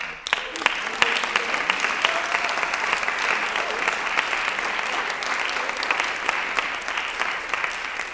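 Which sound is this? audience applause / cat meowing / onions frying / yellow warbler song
audience applause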